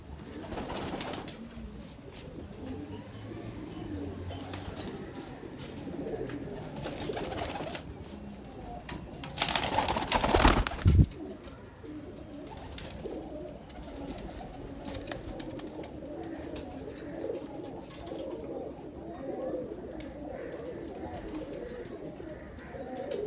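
Pigeons kept by a Lahore pigeon fancier coo in soft, repeated low calls from nearby. Brief voices and a sharp handling clatter break in around the middle.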